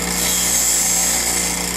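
Drill bit sharpened against a bench grinder wheel, a loud steady whine and grinding hiss held continuously at close range.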